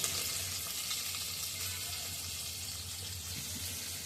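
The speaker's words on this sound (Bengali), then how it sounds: "ঘিটা হইতে দিচ্ছে, কাজু কিশমিশে ভাজা হয়ে যাবে" Cashews and raisins frying in hot ghee in a home kitchen give a steady, even sizzling hiss that runs unbroken throughout, fairly quiet, with no talking.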